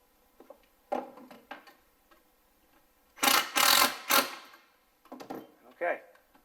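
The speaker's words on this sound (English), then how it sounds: "So I'm going to run 2 screws in that." A power driver runs two screws into a cabinet light plate, with two loud whirring bursts close together in the middle, separated from scattered clicks and handling noises before and after.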